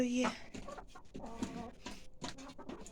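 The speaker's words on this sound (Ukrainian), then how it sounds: "там несеться курочка" Backyard hens clucking and murmuring close by in a coop, one of them laying an egg, in a snowy, frosty winter setting; the short soft clucks come in an irregular stream with a person talking over them.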